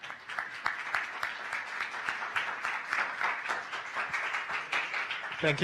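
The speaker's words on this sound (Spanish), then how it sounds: "vamos a darle un fuerte aplauso para empezar" Audience applause at a corporate governance conference session fills the room with dense, steady clapping from many hands, fairly close and even, continuing throughout with no clear break.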